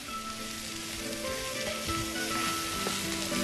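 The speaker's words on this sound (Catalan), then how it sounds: "Ho dorarem una mica en l'oli d'oliva verge" Chopped vegetables browning in virgin olive oil for a rice dish, giving a steady close sizzle and crackle with no speech over it.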